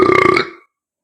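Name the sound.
burp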